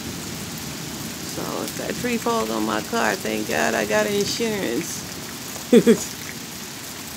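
Steady rain patters in the background while someone talks over it, with a couple of short sharp sounds near the end.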